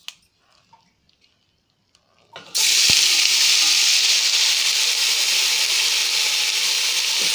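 Onion leaves drop into smoking-hot oil and burst into a loud, steady sizzle that continues without break, after a couple of seconds of faint kitchen clatter.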